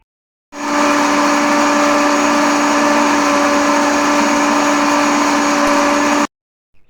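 A grain crusher grinding chicken feed runs steadily at close range for about six seconds, a loud, continuous motor whine with a sharp stop at the end and no talking.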